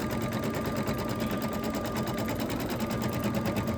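An embroidery machine sews the final stitch-around outline of a mouse design, its needle hammering in a fast, steady, even rhythm that stays loud and close the whole time.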